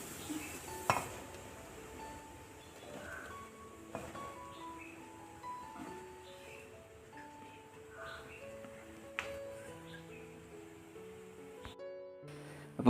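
Rice flour is stirred into salted boiling water in a pot for pathiri, with faint, sporadic clinks and knocks of the utensil against the pot in a quiet kitchen.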